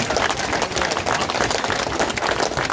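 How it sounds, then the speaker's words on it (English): A crowd applauds veterans at an outdoor protest, steady dense clapping throughout, fairly loud and with no speech over it. "Give them a big round of applause,"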